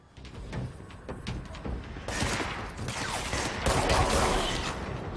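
Gunfire in the action video game Control, a rapid spray of sharp shots that starts moderately and grows louder and denser partway through, with bursts layered over a steady background rumble.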